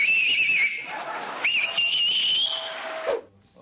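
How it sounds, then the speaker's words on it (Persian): A man whistles loudly with two or three fingers in his mouth, giving a shrill, wavering tone that holds through most of the clip, with a brief pause and a second burst before it cuts off sharply near the end. "این آقا 3 تا انگشتشو یا 2 تاشو گذاشته تو دهنش داره سوت میزنه"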